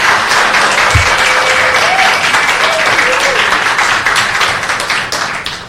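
Audience applause at a council committee hearing on housing, community and economic development, a steady wash of clapping from a crowd that holds at a constant level for several seconds and then begins to thin out toward the end.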